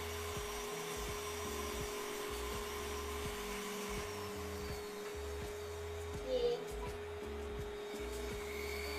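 A vacuum draws up chunks of EVA foam with a steady, moderately quiet suction whine and hum, broken by faint intermittent rattles as pieces are pulled in.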